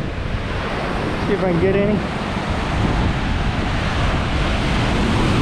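Rough Pacific Ocean waves crash and wash against a jetty at Newport, Oregon, making a loud, continuous roar mixed with wind buffeting the microphone, while someone briefly speaks.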